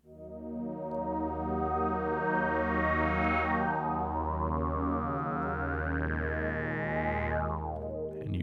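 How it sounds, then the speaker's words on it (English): A sustained synth pad chord plays steadily while a classic filter sweep rises slowly, brightening the tone before dropping back at the end. "I think it's called classic filter sweep, and I really like this one."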